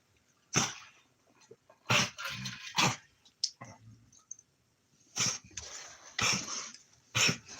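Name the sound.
dog coughing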